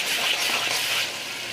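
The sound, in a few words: garlic paste frying in a pan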